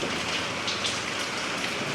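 Rain falling steadily during a trip to Hyderabad, forming a dense, continuous hiss of drops hitting surfaces, fairly loud and even throughout, with no voices.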